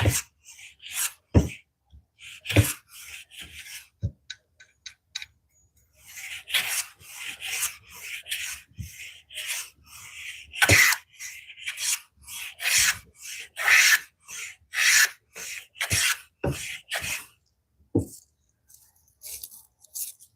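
A hand tool shaves and shapes wood, producing a series of crisp rasping strokes with short pauses between them, close up and fairly loud, with no talking.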